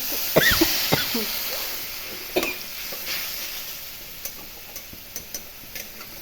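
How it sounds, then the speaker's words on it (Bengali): Hot water poured into spice paste in a hot pan, a steady frying sizzle with a sharp hiss at first, then a few small ticks and stirring knocks. "একটু জল দিলাম, গরম জল।"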